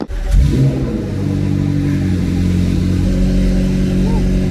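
McLaren Senna with a straight titanium exhaust, its engine catching with a sharp bark and then settling into a loud, close, steady rumbling idle with slight revs.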